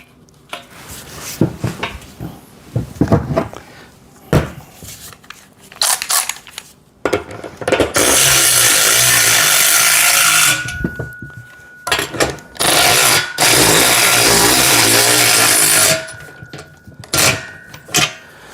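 Metal washers and nuts being fitted and tightened while assembling a VEVOR pec deck and rear delt home gym machine, with scattered clinks and taps followed by long, loud bursts of a power tool driving the fasteners.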